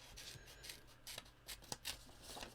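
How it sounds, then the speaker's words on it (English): Old Stampin' Up scissors snip through card in a quick series of crisp, close cuts, with short rubbing sounds between the snips. "I'm just using some old Stampin' Up scissors."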